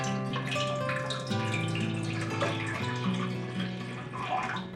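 A pot being filled with water from a tap, a continuous close splashing and trickling stream that changes in pitch as the pot fills.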